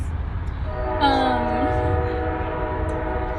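A passenger train passing through Tucson sounds its horn, a sustained chord over steady rumbling rail noise, prominent and near, lasting around a second before fading into the ongoing train roar.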